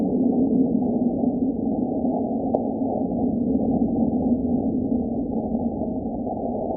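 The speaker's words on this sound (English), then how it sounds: "This creepy sound is an asteroid hitting Mars" Asteroid impact on Mars recorded by NASA's InSight lander on Christmas Eve 2021, heard as a steady, muffled low rumble with an eerie hollow tone and a faint brief tick partway through.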